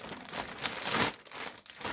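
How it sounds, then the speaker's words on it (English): A plastic storage bag for a Trend Airshield respirator crinkles continuously as it is handled, a close, soft rustling and crackling that swells and fades without pause. "the Airshield was the first one that came with a plastic bag"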